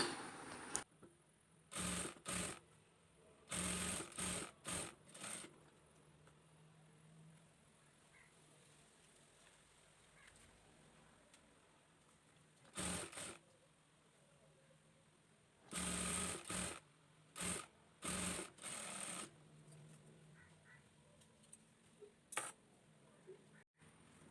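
A sewing machine stitches a child's shirt in several short bursts of rapid mechanical whirring, separated by quiet pauses, close and fairly clear.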